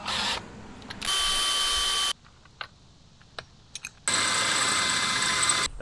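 Power drill boring a hole for a junkyard car horn bracket, two sustained whining bursts with a quiet gap of small clicks and handling noises between them, close and loud, without talking.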